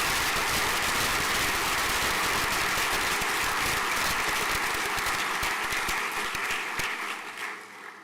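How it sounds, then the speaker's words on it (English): Sustained applause from a school prizegiving audience fills the hall with dense, steady clapping that holds throughout and then thins out and fades near the end. "If we had a round of applause, please."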